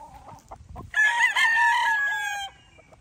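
A Golden Boy Sweater gamefowl rooster gives a loud, close crow lasting about a second and a half, preceded by a few soft clucks.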